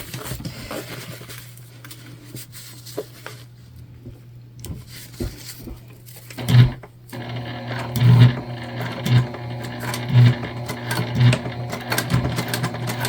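A sewing machine with a worn needle whirs and stitches in short bursts, rhythmic clattering thumps starting and stopping, close by, with light handling noises between runs.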